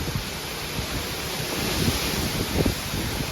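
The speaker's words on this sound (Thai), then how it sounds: "ฝนหนักขึ้นแล้วนะคะ ลมยังแรงอยู่" Heavy rain pours down in a home garden while strong wind gusts through the plants, making a dense, steady rushing hiss with low buffeting thumps as the wind strikes the microphone, and no voices are heard.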